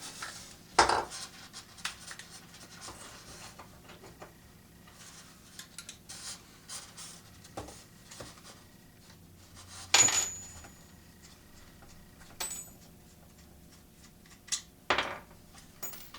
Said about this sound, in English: So I'm going to switch my bit here on the Dremel.